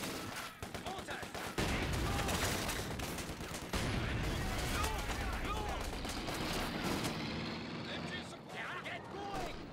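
Mortar and gunfire rumble through a war video game battle, dense overlapping blasts and bursts of automatic fire filling the mix while shouted voices talk over the combat.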